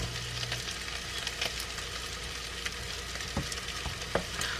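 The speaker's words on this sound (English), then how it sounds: "I'm going to add our onions. And our green peppers." Chopped onions and green peppers sizzle softly in a pan for red beans and rice, a faint, even frying hiss broken by a few light scrapes and stirring clicks.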